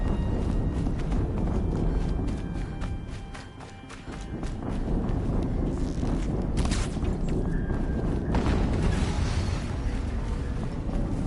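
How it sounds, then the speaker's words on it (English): Explosions go off in the video game Horizon Zero Dawn, sharp broadband bursts that stand out over constant game noise of footsteps and movement, with a couple of louder blasts in the latter half. "Another explosion."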